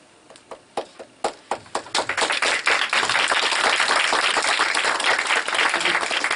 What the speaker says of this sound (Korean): 박수 받기는 이르고요.